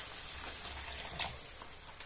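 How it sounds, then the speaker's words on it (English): Water poured from a half-litre jug into a chorizo, chicken and lentil stew with fried tomato, a steady splashing gush that runs evenly for about two seconds, close up and alone. "I'm just going to add some water to that."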